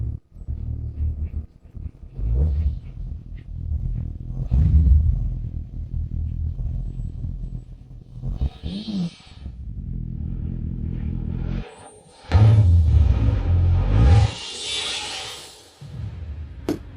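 A restored 2001 Suzuki GSX-R750 motorcycle fuelled and started, the engine cranking and catching into an uneven idle with a couple of sharp revs near the end, close by, no talk.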